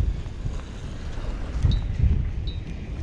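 Wind gusting hard in the aftermath of a storm while squid fishing, a steady broadband roar and buffeting against the microphone, swelling in stronger gusts midway, with no one talking.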